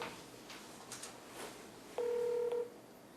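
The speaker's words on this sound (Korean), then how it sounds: "전화 연결 한번 해보도록 하겠습니다" A telephone call is placed, with a short, loud double-tone dialing or ringback beep standing alone after a stretch of quiet line hiss, just before a radio-style phone connection.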